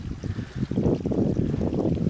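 A small trickle of a waterfall along the Turtle Creek Falls hike gives a soft, continuous watery babble, modest in volume and heard from nearby.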